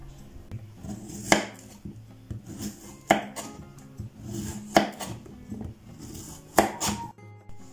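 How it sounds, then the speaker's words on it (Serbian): A knife chops washed zucchini into rounds on a board, four sharp, evenly spaced cuts landing close and clear over quiet kitchen background. "Tikvice smo naravno oprali i sada ćemo ih iseći na kolutove"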